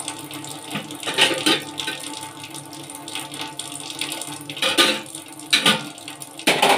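Raw papaya being washed under a running kitchen tap, water splashing and gushing unevenly with a few louder bursts and faint clinks around the sink, no voices.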